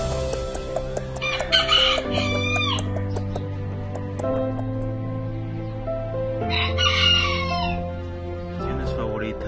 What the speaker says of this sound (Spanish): mi pequeño criadero de gallos miniatura